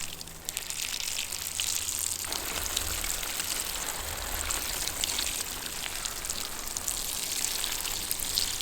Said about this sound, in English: So anyways, let's water the plants.